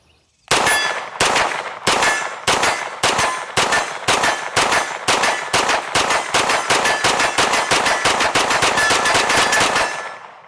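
Suppressed Springfield Armory Kuna PDW gunfire: roughly seventeen sharp, loud shots fired one after another at a steady, deliberate pace, each with a short metallic crack.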